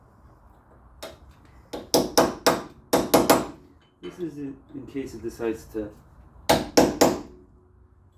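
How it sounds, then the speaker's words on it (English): Sharp metallic hammer blows knocking down the locking tab on the rear wheel hub nut of a Honda Element during a wheel bearing replacement, struck in uneven bursts of two to four close, loud hits, with someone talking between them. "Now we just have to hammer this in here"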